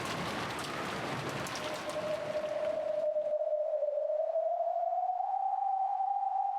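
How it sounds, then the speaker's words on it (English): Heavy rain pours with a hiss in Umineko When They Cry, then quickly fades and gives way to a steady sustained tone. "It's still raining very hard outside, so please take care."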